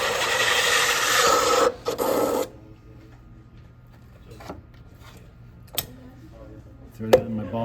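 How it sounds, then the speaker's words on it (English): Rasping, rubbing strokes of a pottery wheel being wiped clean, a dense scraping burst for about two seconds followed by quiet with a few faint knocks and clicks. "I'm gonna clean off my wheel."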